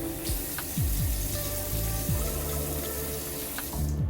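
A tap runs steadily while someone wets their face to wash, a close, continuous stream of water broken by splashes and shifting flow.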